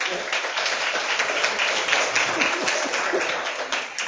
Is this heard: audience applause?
yes